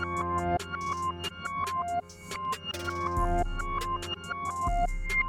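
A piano part rendered to audio and pitched up a full octave in FL Studio plays a steady run of bright, plucky chords and notes over a deep held bass that drops in twice, with no talking.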